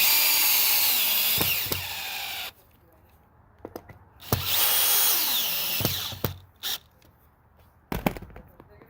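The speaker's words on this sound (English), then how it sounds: "I just have a couple of big ol', like number 12, I believe, screws here that I'm just running in" A power drill runs big number 12 screws with rubber washers into a chicken coop mount, giving loud high whining bursts that start and stop between short quiet pauses and a few sharp clicks, close by.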